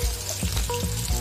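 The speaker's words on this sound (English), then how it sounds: "I'm going to fry these onions until they are translucent and flavored" Onions frying in flavored palm oil in a pot after pepper goat meat, a steady close hiss of sizzling with a few soft stirring knocks, no voices.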